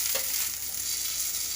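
Boiled potatoes frying in a pan with lotus stem, an even, close hiss of sizzling oil that holds steady for a moment.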